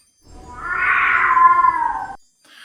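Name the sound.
monstrous Christmas cat (Jólakötturinn) yowling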